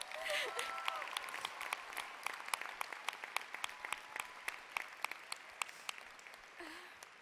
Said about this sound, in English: Can we give Trina another round of applause?